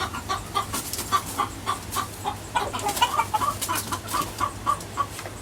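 Hens clucking on a rooftop, a steady string of short repeated clucks close by, with a faint low hum underneath.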